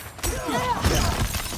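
Frost's shatter ability going off in a video game, a brief crackling burst with sweeping tonal whooshes that settles into a sustained rumble over about a second and a half, with faint game noise alongside.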